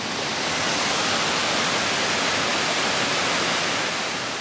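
Sgwd Clun-Gwyn waterfall in the Brecon Beacons, a steady, loud roar of falling water heard close up with no break or voices.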